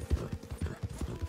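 Horse hooves gallop in Red Dead Redemption 2, a quick, even run of low thudding clip-clops, about eight strikes, close and moderately loud with no talking.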